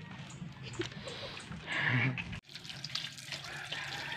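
Water running from a tap while something is washed, a steady close splashing stream that briefly cuts off and resumes, with talk over it.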